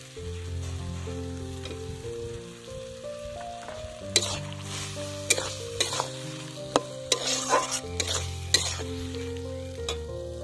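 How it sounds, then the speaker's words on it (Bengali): Dates and mango leather being stirred into a tomato chutney in a frying pan, with a soft sizzle and repeated scraping strokes of a spoon against the pan over a low steady hum, no talking. "খেজুর দিয়ে একটু নাড়াচাড়া করে নেব। এবার এর মধ্যে দিয়ে দেবো আমসত্ত্ব"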